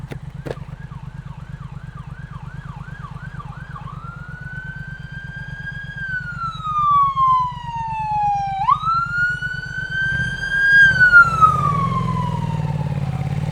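An emergency vehicle siren passes a rider on a Triumph Speed Twin motorcycle. It opens with a rapid yelp, then long rising and falling wails, loud and close above the steady low hum of the motorcycle's engine.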